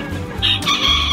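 Chickens and roosters at a poultry breeding farm cluck and call loudly and close by, with an overlapping crowing note running through a busy barnyard bustle.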